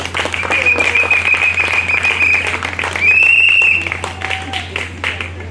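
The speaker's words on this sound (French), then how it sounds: "Applaudissez pour l'officier de l'état civil." Guests applaud the civil registrar at a civil wedding ceremony, a dense round of clapping from a crowd, accompanied by high whistling tones and a low steady hum underneath.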